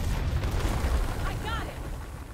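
Frag grenade blast in the game Gears Tactics: a deep, rumbling explosion fills the short moment, with a voice briefly audible over it.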